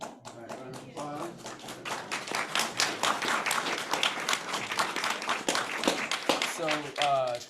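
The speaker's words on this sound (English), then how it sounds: "All right, round of applause." An audience applauds at an astronomy club exoplanet presentation, with dense, close clapping that rises and holds, and voices heard briefly at the start and end.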